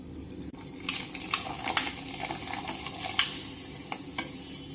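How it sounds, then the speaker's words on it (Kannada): Rice flake papad (avalakki happala) dropped into hot oil, a steady close sizzle with bubbling crackle and occasional scrapes of a metal spoon against the pan. "ಎಣ್ಣೆ ಕಾದೈತಿ, ಹಪ್ಪಳ ಹಾಕ್ತೇನೆ."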